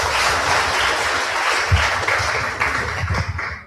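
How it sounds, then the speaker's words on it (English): A crowd applauds steadily, a dense wash of clapping that holds for a few seconds and then begins to thin out at the end. "Please let's give her a round of applause."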